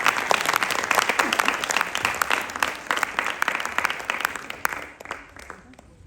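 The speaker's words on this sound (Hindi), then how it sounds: "जोरदार तालियां।" Loud, dense applause from an audience at the Sanarachna 2022 performing arts showcase, with steady clapping that runs for several seconds before thinning and fading toward the end.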